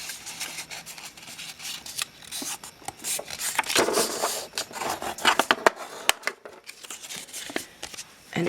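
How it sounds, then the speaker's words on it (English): Scored paper being folded along its crease lines for a scrapbook pocket, a series of close crinkling, rubbing and creasing sounds with sharp crisp snaps, no voice over them. "You're going to want to fold up your score lines."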